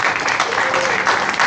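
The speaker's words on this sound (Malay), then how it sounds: "boleh tak kita beri satu tepukan untuk mereka semua?" Audience applause for the artists of the Mega Zikir Terapi concert, a steady dense wash of clapping at close range with some voices mixed in, filling the whole short stretch.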